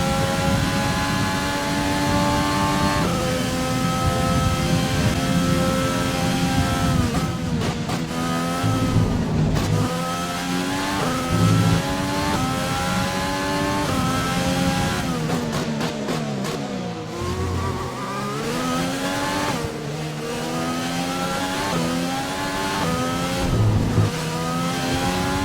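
A Formula 1 race car engine in an F1 career-mode video game drones loudly and continuously, its pitch rising and falling through gear changes and revs.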